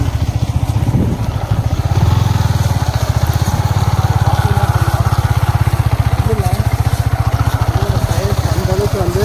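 Motorcycle engine drones steadily and close with a fast regular pulse as the bike rides along a lakeside road, talk heard over it.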